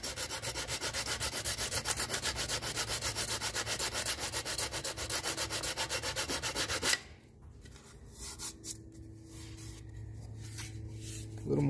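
Rapid rhythmic rasping of 80 grit sandpaper over aluminum classic car trim, close and loud for about seven seconds, then stopping, followed by quieter scattered scuffs and light handling noises.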